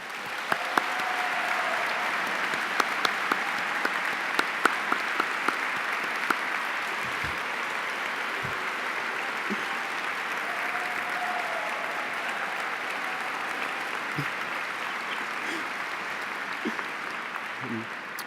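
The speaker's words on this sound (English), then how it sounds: "So please join me, we give them a round of applause." A gala audience gives a long, even round of applause for supporters, a broad sustained wash of clapping heard at moderate distance with a few sharper individual claps and faint voices underneath.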